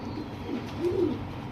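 Pigeons of an old lineage pair, a female and a male, give soft, low, repeated coos close by over a steady background hiss, with no talking.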